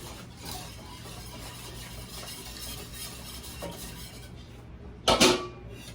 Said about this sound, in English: Then we are gonna add the sugar in, and you want to whisk constantly.